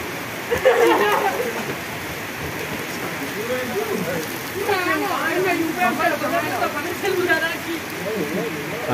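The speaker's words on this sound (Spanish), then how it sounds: "Así estábamos con la lluvia que les advertimos desde hace rato." Rain falls steadily, hissing and pattering on surfaces throughout, while people talk over it.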